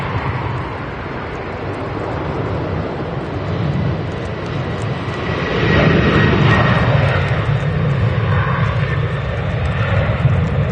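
Emirates airliner at Manchester Airport, a steady broad jet engine roar that swells louder around the midpoint and holds, heard from a distance outdoors with no talking.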